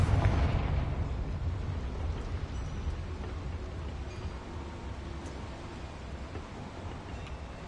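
A Confringo blasting spell goes off with a loud booming burst at the start, then decays into a long rumbling, crackling tail that slowly fades.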